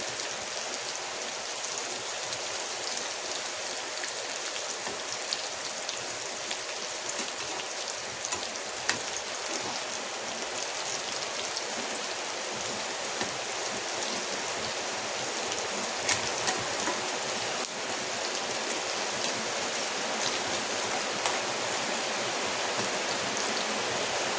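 Heavy rain falls steadily for the whole stretch, a close, even hiss of downpour on surfaces dotted with sharper individual drop hits, and no one speaks.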